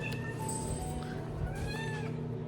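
A house cat meows several times up close, drawn-out and slightly whiny, over a steady low indoor hum, with no talking.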